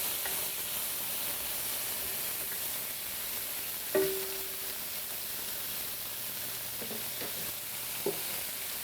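Marinated salmon frying in a pan, a steady soft sizzle with occasional clinks and scrapes as the pieces are moved around.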